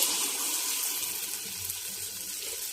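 Punugulu batter dropped spoon by spoon into hot oil, giving a steady, dense hiss and sizzle that runs the whole time without a break.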